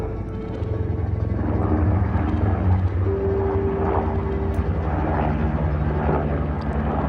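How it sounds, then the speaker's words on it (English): A state trooper helicopter circles over a neighborhood, its engine drone and rotor thrum steady and moderately loud from overhead for the whole stretch, with no one speaking. "The trooper helicopter continued to circle over our neighborhood until it was continually right over the top of our house."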